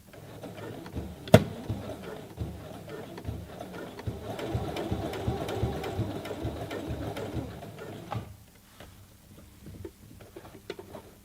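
Brother CE1100PRW sewing machine stitching a jeans hem, a steady rapid mechanical chatter running close and fairly quiet for about eight seconds with a sharp click near the start, then stopping.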